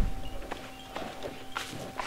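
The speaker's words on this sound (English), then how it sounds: "Do you hear these footsteps?" Footsteps in the horror video game Among the Sleep: four or five evenly spaced soft thuds at a slow walking pace, moderately close, over a faint steady hum, with no speech.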